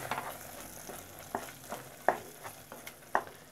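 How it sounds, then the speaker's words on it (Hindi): Masala frying in a pan for fish stew, with soft sizzling and a few sharp scraping clinks of a spoon stirring it, quiet and close. "इसको भूनेंगे अच्छे से।"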